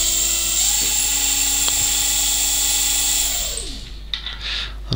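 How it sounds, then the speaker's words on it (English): An ebike motor driven by an Arduino cruise controller gives a steady, close electric whine with a layered tonal hum. The pitch then drops as the motor winds down and stops near the end. "The Arduino is outputting a 5 volt or a not the 5 volt pulse, which is driving the motor, and I can make it go much faster"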